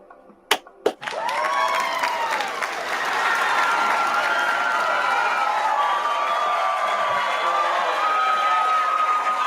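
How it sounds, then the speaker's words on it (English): A live audience claps and cheers in a sustained wash of applause that swells after a couple of sharp early claps and holds steady and loud, with crowd voices mixed through it. "Give them another hand clap."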